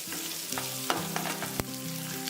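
Chopped green chilli and onion sizzle and fry in a pan with curry leaves, a steady crackle broken by a few sharp spatula clinks and scrapes, close and fairly loud with no voices.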